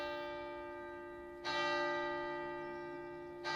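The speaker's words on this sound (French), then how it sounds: "Du village, blotti au fond du vallon, monta le son argentin d'une cloche." A village church bell in a valley strikes twice, each ring bright and sustained with a long shimmering decay, heard from a distance.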